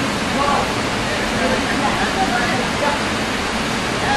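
A river waterfall rushes as a dense, steady roar of falling water, loud and close, continuous throughout the outdoor riverside scene.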